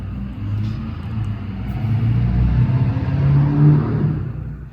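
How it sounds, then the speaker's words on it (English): A car drives past on the street outside an old county jail, a low rumbling engine swell that rises and fades over several seconds, muffled and heard from inside with no talking. "that's a car in the street"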